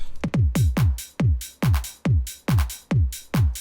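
A looping drum beat with kick, open hi-hat and a sharp clap landing in a steady pattern, punchy and close.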